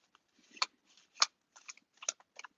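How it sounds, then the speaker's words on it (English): Tarot cards are shuffled by hand, a quiet run of crisp riffling snaps and soft slides coming in irregular bursts, close up with no talk. "I just want to get a couple good shuffles in there."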